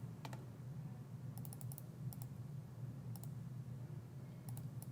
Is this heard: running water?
no